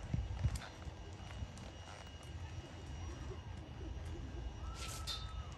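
Soft, irregular hoof thuds of a horse moving at a slow pace over a dusty ground, with a faint hum of an aircraft and outdoor noise.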